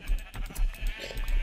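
Sheep in the game Minecraft bleat in a few short wavering calls, close and steady against a buzzy background, with no voices over them.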